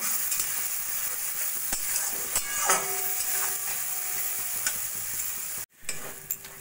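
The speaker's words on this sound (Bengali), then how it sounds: "পেস্টটা দিয়ে ভালো করে কষা কষা করে নেব" A paste of sesame seeds, nuts and tomato sizzles and fries in a pan while it is stirred for a Bengali rohu fish curry. A steady, close hiss runs throughout, with occasional soft scrapes and clicks from the spoon.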